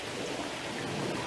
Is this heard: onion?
no